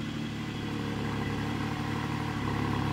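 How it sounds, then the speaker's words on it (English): A Porsche GT4 engine idles steadily with a low, even rumble and a light mechanical clatter, close and constant throughout, with no talk. "Let's start the car and check the valve operation."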